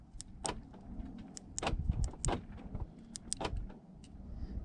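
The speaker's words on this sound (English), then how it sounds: "And you can hear the locks." Nissan door locks actuate from a key fob, a quick series of sharp mechanical clunks and clicks spaced irregularly over a quiet outdoor background, fairly close and moderately loud.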